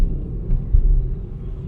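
A bus speeds past on a rural coastal road in Cebu, a deep, close rumble that swells briefly and then holds steady.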